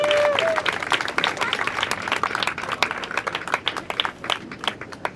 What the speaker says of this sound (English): how about a round of applause and a thanks for our Capitol security who are here to make sure everything goes fine as well